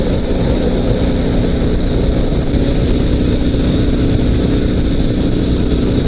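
A Dnepr 16 2WD sidecar motorcycle cruises on a highway, its engine and wind roar forming a steady, loud, unbroken drone close to the listener, with no talking.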